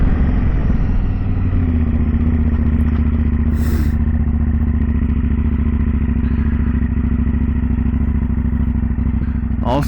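A 2010 KTM 990 SMT motorcycle on the road, its engine droning steadily and loudly throughout with low rumble and some clatter, close up from the rider's position, with no talking.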